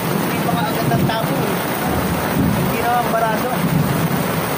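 Heavy rain pours down in a dense, unbroken roar that stays loud and steady throughout, with a gusty, windy wash over it.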